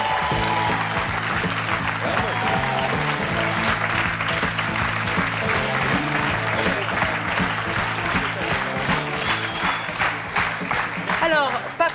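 A theatre audience gives dense, sustained applause, close and loud, with rapid clapping filling the whole stretch and a slight swell near the end.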